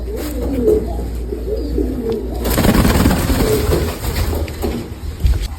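Domestic pigeons, including an old male, coo in low, soft, repeated rolling calls close by, with a rustling burst midway and a few faint clicks.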